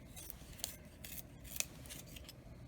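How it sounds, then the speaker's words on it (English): A colored pencil is twisted in a small handheld sharpener, giving a continuous faint scraping rasp with a couple of sharper clicks, close and quiet. "Pencil sharpener."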